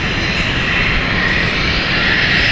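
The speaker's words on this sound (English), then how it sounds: "this is the Phenom one, we're heading off" An Embraer Phenom business jet takes off at London City Airport, its engines giving a loud, steady, broadband roar that holds without pause from start to finish.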